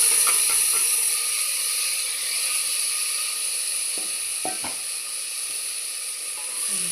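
Washed vegetables sizzle after going into a hot pan for puli mandi, a continuous steamy hiss with a few soft clicks and scrapes partway through.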